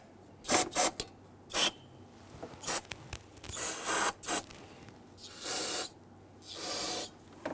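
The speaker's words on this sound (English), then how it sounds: "I'm going to take a little bit of spray solvent and I'm going to spray it on each of the" Several short aerosol bursts of spray solvent hiss from close by onto the fuel injector ports of a 4.7L V8 Jeep Grand Cherokee, separated by brief pauses, with the later sprays lasting longer.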